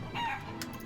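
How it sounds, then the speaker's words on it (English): A chicken in the Shenmue III video game lets out a single brief, faint cluck or squawk in a quiet game scene. "Right, we just need 2 more of these stupid chickens."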